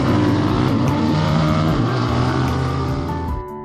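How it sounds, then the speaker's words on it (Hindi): A motorbike in a story sound effect approaches with a steady, loud engine drone that holds throughout, thinning out slightly at the very end, with no voices over it. "तभी बाइक की आवाज आने लगी।"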